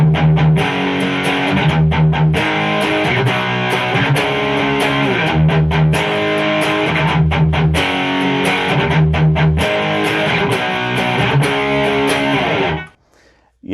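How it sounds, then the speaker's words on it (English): Electric guitar with distortion played through a Lekato wireless system into an amp, loud driven chords in a repeating rhythmic riff with sharp palm-muted stops, continuous for most of the stretch before cutting off abruptly at the end. "Let's see what it sounds like with some distorted tones here"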